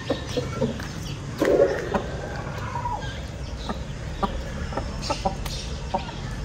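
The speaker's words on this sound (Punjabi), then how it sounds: "ਇੱਕ ਨਵੀਂ ਮੁਰਗੀ ਵੀ ਅੰਦਰ ਲਿਆਂਦੀ ਹੈ ਉਹ ਖਾਣ ਲੱਗ ਪਏ" Chickens cluck and squawk while feeding on bread in a rain-soaked mini zoo pen, with a louder burst of calls early on and softer intermittent clucks throughout.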